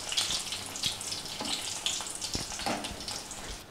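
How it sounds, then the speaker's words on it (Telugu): Garlic cloves frying in a few teaspoons of oil in a hot pan, a steady close crackling sizzle with occasional sharper pops and stirring clicks, no voices. "స్టవ్ మీద పాన్ పెట్టి పాన్ బాగా వేడైన తర్వాత 1-4 టీ స్పూన్లు ఆయిల్ వేసి మెత్తగా చదును ఉంచుకున్న వెల్లుల్లిపాయలు రెమ్మలు వేసి కొద్దిగా వేగే వరకు ఉంచుదాం"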